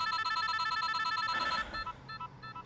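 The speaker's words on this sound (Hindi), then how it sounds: "श्री, फोन क्यों काट रहे थे तुम?" A telephone rings with a steady electronic trilling tone that repeats rapidly for about a second and a half, then gives way to a softer, broken chime pattern.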